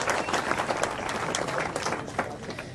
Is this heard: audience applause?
yes